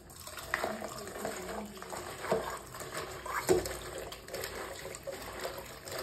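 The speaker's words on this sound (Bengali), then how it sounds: "এই দেখো এবার এগুলোকে ধুয়ে ফেলছি।" Freshly cut vegetables are rinsed in a basin of water, with uneven sloshing and splashing, occasional sharper knocks, and light clatter close by, all fairly steady throughout.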